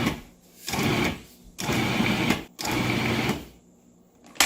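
A food processor pulses butter into flour for flaky pie crust: three bursts of loud whirring motor, each about a second long, separated by short silent gaps.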